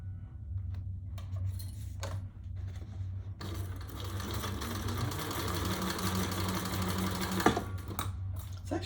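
A sewing machine stitches the top seam of a fabric bag, a few short stop-start bursts giving way to a long continuous rapid whirr, close and steady, with a low motor hum underneath.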